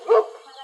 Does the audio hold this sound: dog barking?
yes